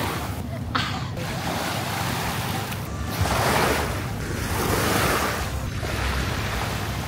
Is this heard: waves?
yes